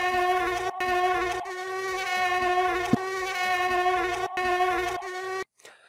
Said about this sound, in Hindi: जैसे कि ये एक मच्छर है जब इनके विंग्स वाइब्रेट करेंगे तो आपको आवाज़ सुनाई देगी